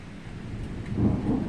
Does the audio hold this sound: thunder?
yes